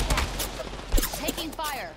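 Gunfire in the video game Apex Legends crackles in short bursts, with several sharp shots mixed among game effects while a person talks over the action.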